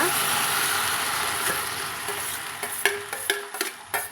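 Broad beans poriyal being stirred in a frying pan: a soft sizzle under repeated scraping and stirring strokes, with clattery utensil knocks in the later half.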